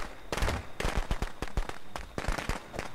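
Firecrackers popping in the Friday the 13th video game, a rapid irregular string of sharp cracks and bangs in dense bursts that fill the whole stretch with barely a pause.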